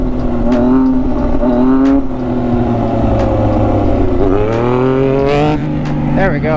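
BMW S1000RR liter-bike engine revving hard during a wheelie attempt, a loud, steady roar that rises and falls in pitch, with a rider's voice over it.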